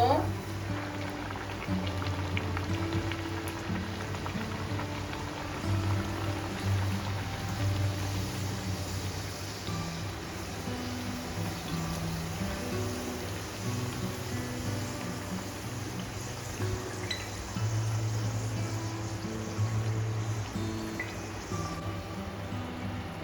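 Dal puri deep frying in hot oil, a steady bubbling hiss that runs throughout at moderate level, with a voice talking now and then over it.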